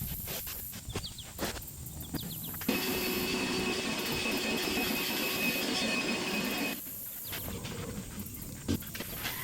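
A battery-powered DeWalt vacuum whirs loudly while cleaning a tent floor, switching on after a quiet start, running steadily for several seconds, then cutting off.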